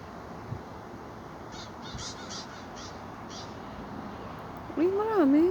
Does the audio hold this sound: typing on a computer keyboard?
no